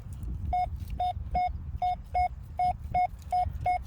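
A steady run of short electronic beeps from an XP Deus II metal detector target tone in a coin program, about nine evenly spaced tones over a low rumbling background, clear and close.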